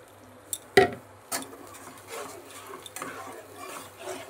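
Fish being stirred in a pan with water on a gas stove, a few sharp scrapes and clinks of a utensil against the pan early on, then soft shuffling and faint sizzle, close and fairly quiet.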